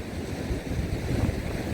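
Stormy Black Sea waves at Odesa roar in a steady, dense wash of surf close by, with heavy wind buffeting the microphone and no talk.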